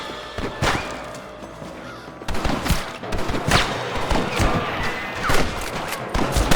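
Gunfire in Red Dead Redemption, a Western video game: sharp shots and volleys crack out repeatedly, some overlapping in bursts, loud and close, with game voices faint in the background.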